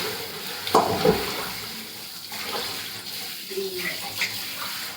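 Dishes and bowls washed by hand under running water, with a steady splashing flow and occasional clinks of crockery, close and moderate in level.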